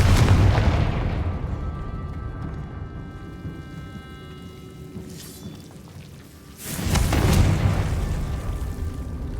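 Confringo fire spell in Hogwarts Legacy, heard as a heavy booming blast that decays into a rumbling tail, followed a few seconds later by a second loud explosive burst.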